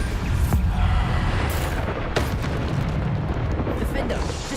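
A Bombarda exploding spell from Hogwarts Legacy going off with a loud, rumbling blast that booms and keeps roaring for several seconds, with sharp crackling bursts inside it.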